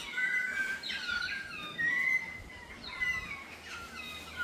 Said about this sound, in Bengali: সকাল হলেই পাখির ডাকে ঘুম ভাঙে